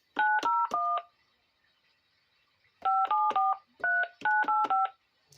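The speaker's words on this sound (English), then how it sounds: "Now we're going to type in a number." Telephone keypad dialing tones while calling out on a home phone setup: a quick burst of four beeps, a pause, then two more rapid clusters of crisp dual-tone presses, loud and close.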